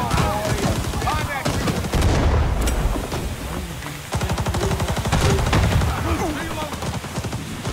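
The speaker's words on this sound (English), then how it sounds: "there's a machine gunner on the far left. Covering the street." Machine gun fire in the Vietnam shooter Rising Storm 2 at Hue City comes as loud, rapid bursts of rattling shots across the whole stretch, with heavy booms and chaotic battle noise between volleys.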